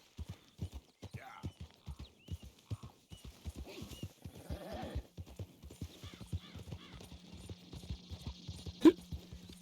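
Steady clip-clop of horse hooves trotting close by in the video game Red Dead Redemption 2, with a brief whinny and a sharp bang near the end over a low hum.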